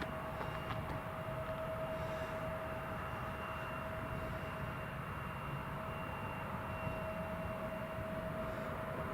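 An airliner's engines drone steadily and fairly faint at Newcastle Airport while lining up on runway 07, a continuous whine with a thin high tone and no talk.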